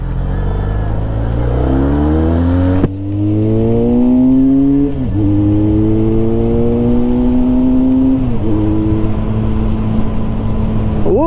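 A Benelli Leoncino 500 motorcycle pulls away hard, its engine note climbing through the revs, dipping briefly at each gear change and rising again, loud and close without speech.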